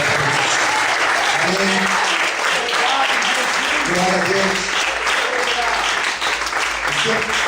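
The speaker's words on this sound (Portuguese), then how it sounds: "Você pode aplaudir a Deus muito forte" Church congregation applauding strongly, a loud, sustained wash of clapping throughout, with voices calling out exclamations over it.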